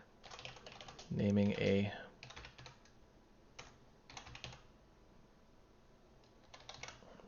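Typing on a computer keyboard, with bursts of quick clicking keystrokes separated by pauses. Someone speaks briefly over it.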